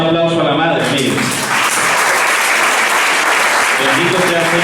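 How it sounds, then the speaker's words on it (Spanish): Church audience applauding in a dense, steady roar of clapping that follows a voice and carries on throughout, loud and close. "Denle un aplauso a la madre"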